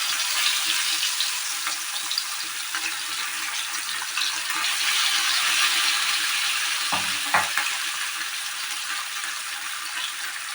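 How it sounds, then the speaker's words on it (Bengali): Bata fish frying in hot oil, a steady broadband sizzle and crackle running throughout at even loudness, with a couple of brief sharper pops or spatters near the end. "বন্ধুরা, মাছটা আমি প্রথম ফ্রাই করে নেবো।"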